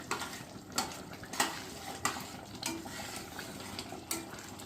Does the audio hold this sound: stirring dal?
yes